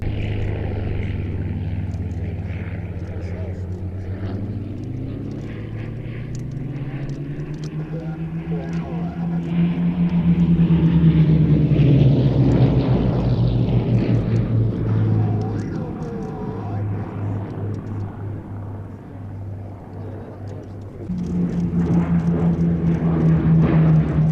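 A Hawker Tempest piston-engine fighter drones past at an airshow, its engine tone rising and swelling to a loud peak as it passes, then fading before a second strong pass near the end.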